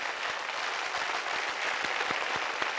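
Audience applause for contestants on a Telugu game show, a steady wash of many hands clapping at moderate level throughout, with no voices over it.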